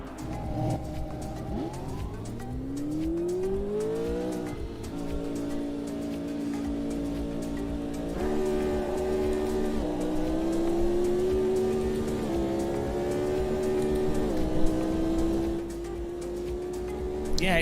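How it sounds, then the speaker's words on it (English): A race car engine in the Automobilista 2 racing game at Monza runs loud and close, climbing through the revs over several gear changes and holding a steady drone in between. Someone talks over it at times. "now it sounds like the engine's in front of me"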